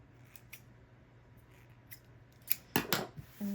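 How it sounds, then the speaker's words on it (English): Scissors snip threads on a transparent pressed flower tag, a few soft close clicks scattered over the clip with a couple of louder snips toward the end, otherwise quiet. "Going to trim some of the threads here."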